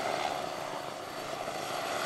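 Private helicopters at a heliport: a continuous, fairly faint rotor and engine drone holds steady for about two seconds, with no talk.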